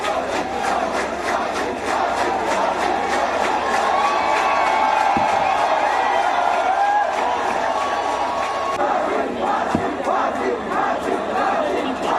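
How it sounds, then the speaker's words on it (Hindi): An angry protest crowd in Badlapur chants "hang them" slogans, a dense, loud, continuous roar of many voices shouting together in rhythmic bursts without pause. "फांसी फांसी के यहाँ पर नारे लग रहे हैं"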